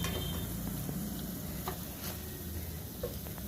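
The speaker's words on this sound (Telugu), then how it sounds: "ఇప్పుడు ఇంకా రైస్ వేసేసుకోవడమే" Stirring rice into cooked, softened tomato mixture in a pan for tomato bath makes a soft, steady sizzle with faint scraping and occasional light clinks, fairly quiet and with no talking.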